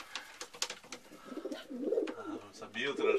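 Pigeons cooing in a loft, soft rolling coos repeating close by over the second half, mixed with scattered rustling and a voice talking in the background.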